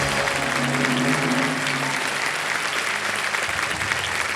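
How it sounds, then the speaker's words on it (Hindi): Studio audience on a televised quiz show bursts into loud, sustained applause after a correct answer, a dense wash of clapping filling the whole clip with faint music underneath. "पहले सही ताली बजाइए"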